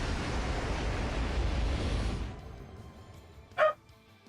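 A single short dog bark sounds near the end of a scene in the video game Fate Extra CCC, coming right after a burst of broad noise dies away into quiet.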